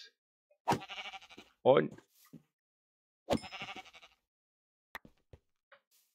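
A cow in Minecraft moos twice, a few seconds apart. Each call is short and clear against silence, and someone says a brief word between the calls.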